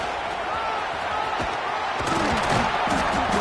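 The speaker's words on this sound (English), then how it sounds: "here comes the noise. This crowd is trying to inspire this defense to make a big red zone stop" A packed stadium crowd at a college football game between Southern Mississippi and Alabama roars steadily as the defense faces a red zone stand, a dense, loud wash of massed voices that swells slightly toward the end.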